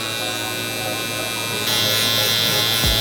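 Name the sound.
zero gap hair trimmer buzzing during a mid fade haircut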